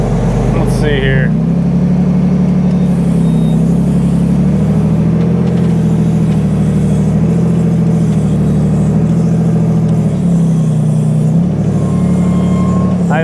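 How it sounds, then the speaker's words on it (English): Loud, steady engine drone from side-by-side buggies, including a rear-steer buggy, crawling over rough rocky trail terrain at Sand Hollow, with the engine note rising and falling under a continuous rumble. "Got a group of side-by-sides out here."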